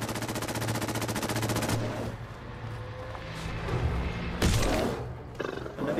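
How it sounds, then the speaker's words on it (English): Gunfire in the Fallout 4 Nuka World video game, a sustained rapid burst of automatic shots followed by booming impacts and scattered louder hits, dense and close over game ambience. "What are you shooting at?"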